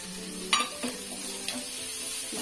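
Cut capsicum stir-fries on high flame in a pan for veg manchurian: a steady sizzle broken by a few distinct spatula knocks and scrapes against the metal, close up, with no speech.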